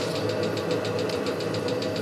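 A Webasto diesel heater runs steadily, with its fuel pump ticking in a fast regular pulse over the continuous whir of the fan at high speed, close and constant with no talk.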